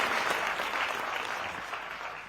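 An audience claps to welcome Delhi Chief Minister Rekha Gupta, producing a moderately faint, steady wash of applause that fades slightly toward the end.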